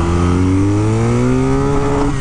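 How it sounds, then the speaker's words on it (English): 2022 BMW R nineT motorcycle with an Akrapovic exhaust pipe revving up, loud rising engine pitch throughout, heard close while riding with wind noise, no talking. "I like the noise. This has a Akrovich pipe on it"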